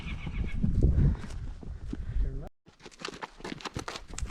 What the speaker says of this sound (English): We're out for a trail ride.